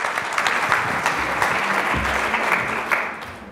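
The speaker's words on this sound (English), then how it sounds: "Please give them a round of applause." Audience applause rings out for a startup taking the stage at a pitch event, a dense, loud burst of many clapping hands that holds steady before starting to ease off at the end.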